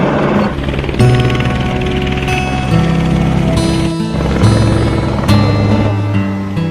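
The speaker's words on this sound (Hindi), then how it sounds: "एक हेलीकॉप्टर अभी आया है।" A helicopter arrives at Kedarnath, its loud, close rotor thumping and turbine whine filling the air steadily throughout.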